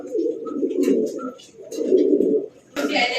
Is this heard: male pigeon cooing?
yes